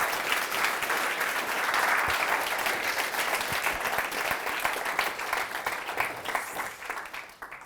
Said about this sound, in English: So just want to give a round of applause for him for that.